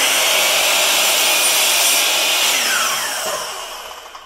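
Compound miter saw cutting a wooden piece for an acrylic pen mold, a loud, close, continuous high whine through the cut that winds down and fades over the last second.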